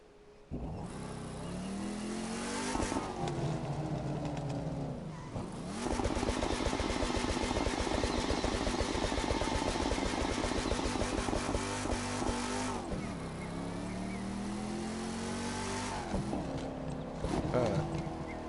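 A Hemi car engine revs loudly and close, long sustained roars with rising pitch sweeps separated by short dips, filling the whole stretch.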